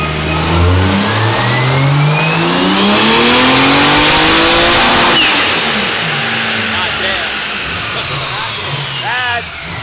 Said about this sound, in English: The dump tube doesn't sound obnoxious.